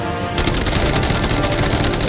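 A rapid burst of automatic gunfire rattles continuously after a brief quiet start, loud and dense, with no voices.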